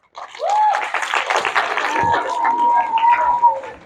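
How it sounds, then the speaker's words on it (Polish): Applause from a live audience at an educational entrepreneurship workshop in Grójec, dense clapping under crowd noise with a whistle-like tone running through it. "także brawa dla Was"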